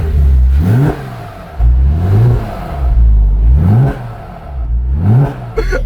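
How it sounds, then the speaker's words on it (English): A Porsche Cayman S engine with a newly installed SOUL exhaust revs hard four times in a row, each rise in pitch snapping back to a deep, rumbling idle, loud and close. "you go to rev it up and it just sounds crazy"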